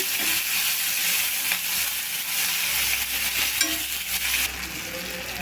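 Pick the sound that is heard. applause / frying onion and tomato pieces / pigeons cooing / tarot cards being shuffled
frying onion and tomato pieces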